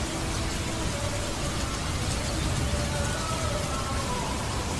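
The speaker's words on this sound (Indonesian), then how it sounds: "hujan terus, musim hujan." Rain pours during a motorcycle ride on a modified Yamaha Vixion, a dense, loud, unbroken wash of hiss with a faint engine tone underneath.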